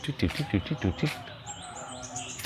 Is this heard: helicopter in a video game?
no